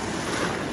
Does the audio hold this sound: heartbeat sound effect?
no